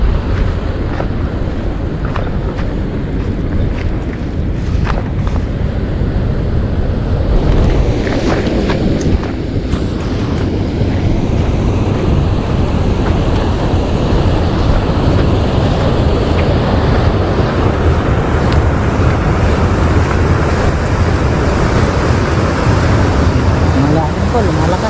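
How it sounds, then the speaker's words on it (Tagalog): Strong river current in Tarlac rushing through a widening gap, a loud, steady broadband roar of turbulent water with wind buffeting, continuous throughout. "Bigla po lumakas yung tubig."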